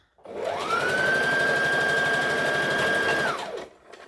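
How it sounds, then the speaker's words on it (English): An overlocker runs steadily for about three seconds, stitching velvet seams on a Halloween costume, with a clear motor whine that spins up and winds down, loud and close, no talking. "My big plan is to do all the overlocking at once."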